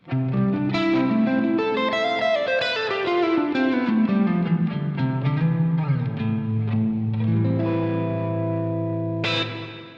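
A distorted electric guitar plays a descending run of notes, each washing into a long reverb tail of about three seconds, with a final struck chord.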